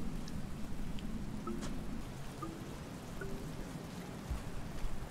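Rain from the video game Rain World: Downpour, a steady, faint hiss of falling water with soft scattered drips and a low wash underneath, constant and without talk.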